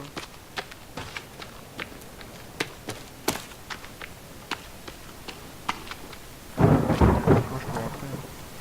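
Steady rain hiss in the video game The Forest with scattered sharp clicks and taps, then a louder rumbling burst near the end like thunder, no talking.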